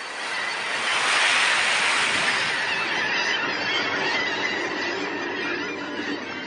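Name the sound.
ocean waves surging on the shore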